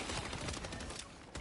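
Rapid bursts of automatic gunfire in the co-op shooter game Helldivers 2, a dense stuttering volley of shots sustained for about a second and a half with a brief pause near the end, loud and close.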